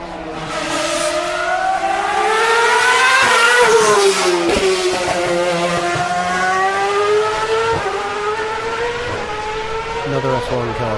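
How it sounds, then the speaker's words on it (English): A 2009 Ferrari F60 Formula 1 car's engine howls at high pitch, rising through a run of upshifts with sharp gear-change breaks, loud and close. "Marc Genet in the Ferrari F60 from 2009."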